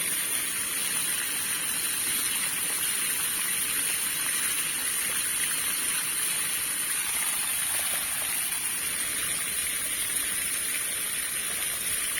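Water gushes steadily from a draining catfish pond on a small farm, a loud, continuous broadband rush with no breaks and no talk.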